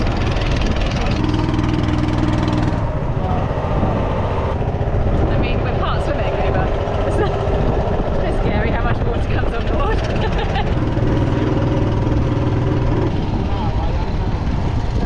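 A rustic river ferry in Jericoacoara, Brazil, carrying a quad bike, runs its engine at a steady, rumbling idle throughout. Voices and chatter sit over the continuous drone.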